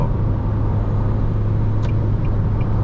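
A 2024 Isuzu D-Max X-Series two-door pickup with a 1.9 diesel engine and manual gearbox accelerates on the road, giving a steady loud engine drone and low rumble heard from inside the cab.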